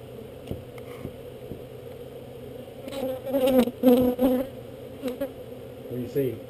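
Honeybees being removed from a wall buzz close by with an uneven, wavering hum. A few louder swells pass through as individual bees fly near, set against a quieter background drone.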